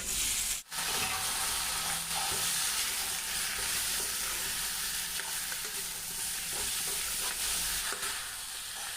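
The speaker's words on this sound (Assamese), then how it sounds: "গোটেইখিনি ভাজি আছোঁ, লাহে লাহে লৰাই আছোঁ" Chicken fries with a constant loud sizzle in a pan, while a spoon scrapes and stirs at intervals throughout.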